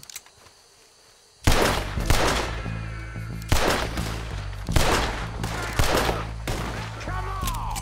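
Gunfire in the video game Red Dead Redemption 2: after a quiet opening, a series of loud, booming shots and volleys erupt, each ringing out and decaying, with brief pauses between bursts and no speech over them.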